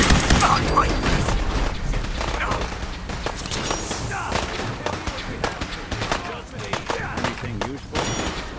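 Grenade blasts and bursts of gunfire fill a Fallout 4 firefight, sharp dense cracks and booms layered over shouting voices and game chatter throughout.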